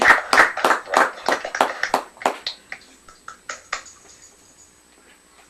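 A church congregation applauds during a worship service, with a burst of loud, dense hand clapping that thins out into scattered, fading claps over several seconds.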